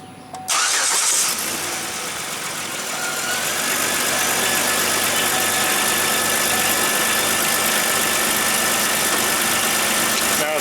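A Chevy Equinox engine cranks and catches after an oil change, then settles into a steady, even idle that fills the rest of the clip.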